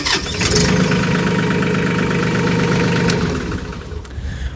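A brand new tractor's engine cranks and catches, settling into a loud, steady diesel rumble close by before it eases off near the end.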